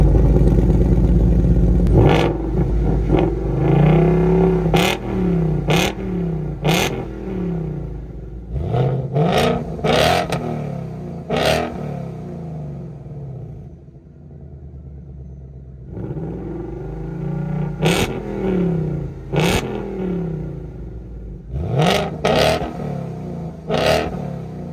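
A 2021 Ford Mustang Mach 1 with the Handling Package revs its V8 engine in loud, repeated bursts, with sharp throttle blips between rising and falling roars and a quieter idle lull in the middle.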